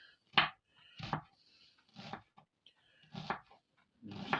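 A knife cuts an onion into half rings on a cutting board: five sharp, separate chops spaced under a second apart, with quiet gaps between them.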